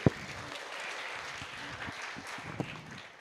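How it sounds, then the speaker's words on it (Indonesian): A room full of people applauds in thanks to a hardworking team at a field-stories talk, with a steady, moderately soft patter of many hands throughout and a couple of sharper claps standing out. "Mohon tepuk tangannya, teman-teman."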